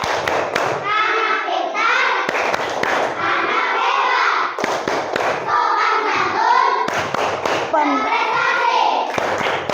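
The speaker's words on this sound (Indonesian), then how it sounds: "Tepuk kelas 3." A third grade class chants together in unison, punctuated by sharp bursts of group hand claps in rhythm, loud and close, with children's voices filling the gaps between claps.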